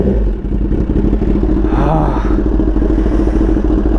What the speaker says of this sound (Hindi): Super loud exhaust, super loud.